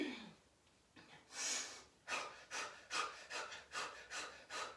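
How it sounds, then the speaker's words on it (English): Rapid panting breath work in a yoga class, a quick series of sharp, breathy exhalations in an even rhythm after a brief pause, close and fairly soft. "Almost like a dog panting."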